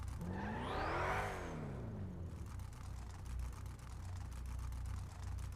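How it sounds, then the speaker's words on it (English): A daily-driver car engine revs hard, its pitch sweeping up and back down in one loud burst, then drops to a steady low idle-like drone for the remaining seconds, with no talking. "I like the engine sound."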